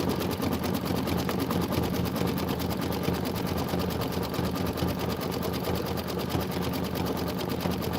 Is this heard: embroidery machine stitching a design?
yes